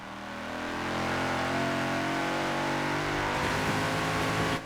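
Car engine in Forza Horizon 4 revving and accelerating steadily on a downhill run, a continuous mid-pitched drone rising in pitch with a gear shift near the end, loud and close with no talk.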